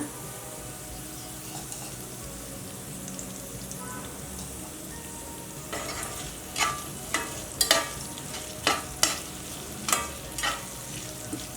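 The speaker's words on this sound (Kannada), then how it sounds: "ಕ್ಯಾಪ್ಸಿಕಮ್ಮು ಸ್ವಲ್ಪ ಫ್ರೈ ಆಗಲಿ ಹುರಿದು ಪುಡಿ ಮಾಡಿ ಇಟ್ಕೊಂಡಿರೋಂಥ ಮಸಾಲೆ ಸೇರಿಸ್ಕೊಳ್ಳೋಣ" Capsicum and roasted, powdered masala fry in oil for raw mango chitranna over a low gas flame: a soft, steady sizzle, then a run of sharp spoon-and-pan stirring scrapes in the second half.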